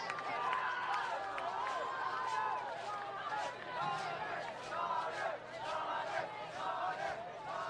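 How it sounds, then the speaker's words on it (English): A high school football student section at a Tindley versus Covenant Christian game, crowd voices chanting and shouting a player's name in a steady, rowdy roar picked up from the stands, with commentators talking over it. "You can hear the student section shouting out Connor."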